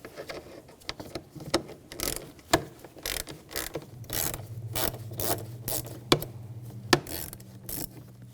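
A ratchet turns a 5 mm hex socket to remove a bolt on a 2007-2013 BMW X5 3.0L L6 during intake gasket work, making quick repeated clicking strokes in close bursts, with no talk.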